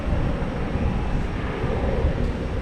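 An Allegheny airliner starting its takeoff roll at Boston Logan Airport, a broad, steady engine roar mixed with wind rumble, continuous and distant-sounding, with no voices.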